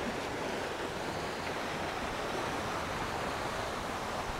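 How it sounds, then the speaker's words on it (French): Strong wind and waves rush around a sailing cruising yacht running at about ten knots under spinnaker, making a constant, broad, hissing roar close to the microphone, with no talking. "ça souffle fort, ça souffle bien"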